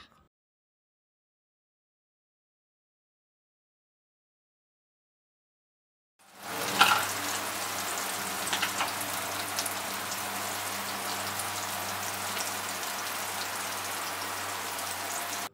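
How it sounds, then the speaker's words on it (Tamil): Paneer cubes hit hot oil in a pan, starting a steady loud sizzle and crackle that begins abruptly after several seconds of silence and then holds constant to the end. "எண்ணெய் காஞ்சதும் ஒரு ஒரு பன்னீராக சேர்த்துக்கலாம்"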